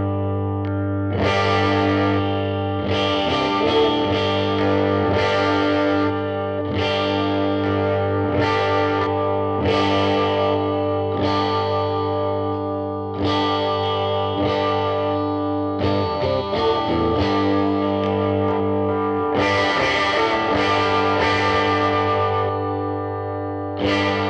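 Epiphone SG400 Pro electric guitar with overdrive, strumming a run of sustained, distorted chords, each ringing out before the next, loud and close with no talking.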